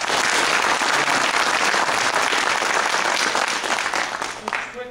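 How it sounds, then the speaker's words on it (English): A conference audience at FUDCon Blacksburg 2012, a Fedora gathering, gives a full round of applause, loud and steady throughout before tapering off near the end. "give everybody a big round of applause for everything that they did"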